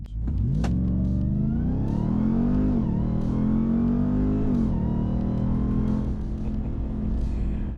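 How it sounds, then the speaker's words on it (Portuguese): A 2027 Ram SRT TRX pickup with 777 hp accelerates hard, its loud engine rising steadily in pitch with a brief dip as it shifts, then continuing to climb in a sustained, close, throaty roar. "vou acelerar e te conto a experiência"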